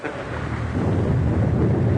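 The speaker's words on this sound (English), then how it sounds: "it's going to be 3 days before this storm blows over" A deep, broad rumble of thunder swells and then holds steady for about two seconds during a storm, loud and enveloping, with no voices.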